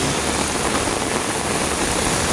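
Heavy rain pours steadily in a dense, unbroken roar, loud and close, with no voices.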